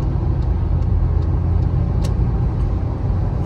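Traffic rumbles on a city street in Balneário Camboriú as a truck passes close by. A steady, loud engine drone and road noise continue throughout with no speech.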